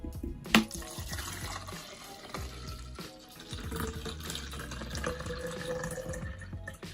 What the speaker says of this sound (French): Je dois mettre 350 ml d'eau et mettre ça là-dedans